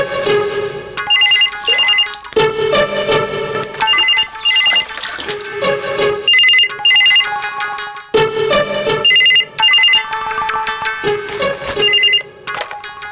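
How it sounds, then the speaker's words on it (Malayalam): Telephone ringtone playing in a domestic setting, a loud electronic melodic ring repeating in bursts with short pauses, alone without any talk over it. "ഫോൺ വിളിക്കുന്നു, പോയി എടുക്കാൻ നോക്ക്."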